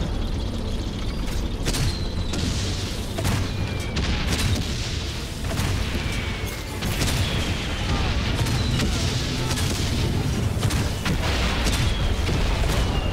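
Repeated booming explosions and blasts in the World War I game Valiant Hearts, set at Douaumont, rumbling loudly and continuously over dense battle noise with someone talking excitedly throughout.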